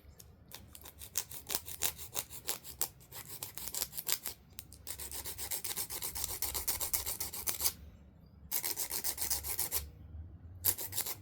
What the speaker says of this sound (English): it really does the job when it comes to filing these down